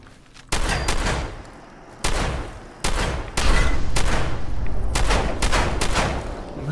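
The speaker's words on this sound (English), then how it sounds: "My shots are just going right through her." Gunfire in the video game Spookout 4: several loud, sharp broadband shots land at irregular intervals, then merge into a sustained burst of rapid firing.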